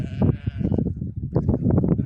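A herd of goats bleats on a farm holding two to three hundred of them, overlapping calls close by in quick succession, with no talking.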